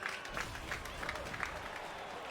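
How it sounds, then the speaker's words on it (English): Audience applause at a Street Fighter world championship tournament, a steady wash of clapping from a crowd, fairly faint and distant, with a commentator's voice talking over it. "another dominating light round of applause"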